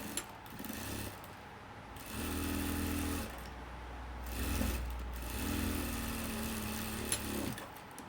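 A sewing machine runs in bursts while stitching the front part of a blouse, two sustained whirring runs separated by quieter pauses, close and fairly soft, with no talk.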